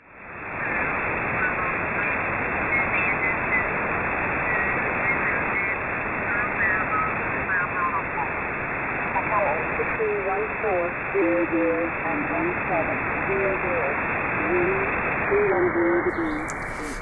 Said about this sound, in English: When I'm introducing the external oscillator that'll act as the beat frequency oscillator, it sounds like this, and the tuning is very sensitive